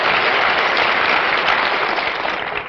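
A television studio audience applauds steadily at a crew reunion of the "I'll Get By", a thick, even wash of clapping that stays loud and tapers slightly at the end, with no talk.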